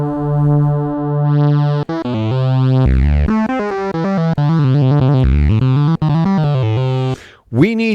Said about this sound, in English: We're just providing a little bit of distortion.